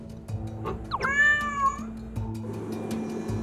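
A cat with separation anxiety lets out a loud, drawn-out meow at a closed door, rising then falling in pitch, over a steady low background hum.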